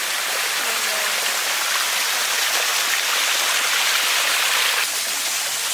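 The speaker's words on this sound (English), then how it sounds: "There are waterfalls everywhere." Waterfalls pouring in an underground cave setting, a steady broadband rush of falling water that fills the whole stretch, close and loud with no pauses.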